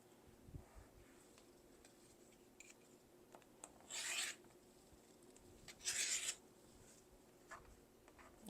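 A rotary cutter slices a fabric quilt block along a ruler with two short, crisp rasping strokes about two seconds apart, close and fairly quiet in an otherwise still room.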